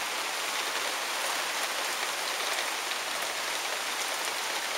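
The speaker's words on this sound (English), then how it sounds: "Now it's raining harder." Heavy rain pours down steadily on an Ontario garden, a dense continuous hiss of drops drumming on surfaces with no break.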